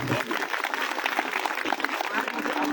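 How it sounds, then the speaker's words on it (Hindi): A crowd at an outdoor political rally for a ward election applauds: a fairly faint, distant wash of scattered hand claps that holds steady for a few seconds. "जोरदार तालियां इनके लिए"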